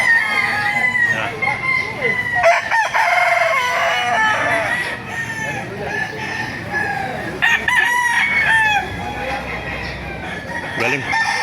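Roosters crow repeatedly at a chicken market in Baliuag, Bulacan, several birds overlapping loudly amid clucking and background chatter.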